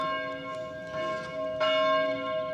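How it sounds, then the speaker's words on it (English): French church bells ring in the Chartreuse mountains between Grenoble and Chambéry, with a couple of clear strikes and long, sustained metallic hum that lingers at moderate distance. "There you go, French church bells."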